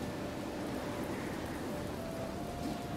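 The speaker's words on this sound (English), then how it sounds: "I'm not gonna stand out in the rain." Steady rain falling in the video game Planet Explorers, a constant even hiss of drops with no breaks, heard alone.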